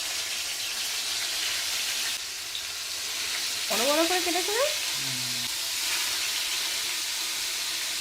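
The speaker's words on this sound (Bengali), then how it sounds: "আজকে মাছটা অন্যরকমভাবে ভাজছি, একটু লবণ হলুদ আর অল্প একটু পেঁয়াজ রসুন বাটা দিলাম" Seasoned fish pieces coated in salt, turmeric and onion-garlic paste fry in hot oil, a steady loud sizzle and hiss running throughout, while someone briefly speaks over it.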